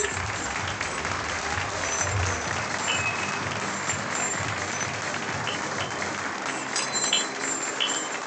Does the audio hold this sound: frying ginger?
no